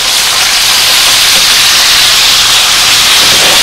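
Chicken sizzling loudly in a pan just after being flipped, a steady, intense, close hiss with no pauses.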